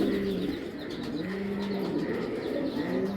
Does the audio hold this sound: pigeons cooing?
yes